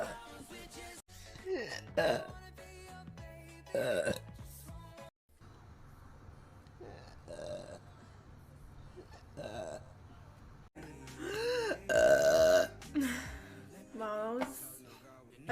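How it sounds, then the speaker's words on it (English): A woman burps repeatedly across several bursts, loud and close, with her chatter and laughter between and over the belches. "Wow, that's a burp again."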